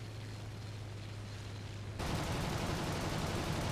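Aircraft cannons fire from a Bf109 F-4 fighter in the War Thunder video game, a dense rapid burst that abruptly starts partway through over a constant background engine drone.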